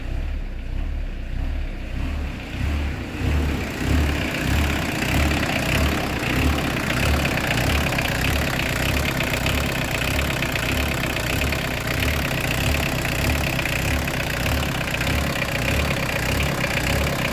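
The turbo diesel engine of a Peugeot 205 idles close by, a steady low rhythmic knocking chug like a pump-injection tractor, continuing unchanged throughout.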